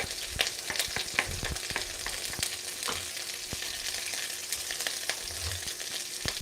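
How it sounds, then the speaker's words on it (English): Portuguese-style octopus frying together with other food in a pan, a dense, even sizzle with scattered crackles and occasional spatula clicks, close and steady throughout. "we are cooking everything together on a pan"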